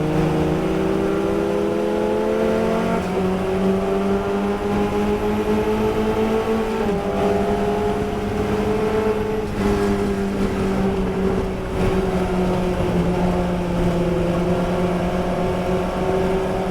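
A Formula Ford race car in a historic race drones steadily at high revs, heard from on board, with its engine pitch climbing and then dropping at shifts, loud and continuous with no pauses.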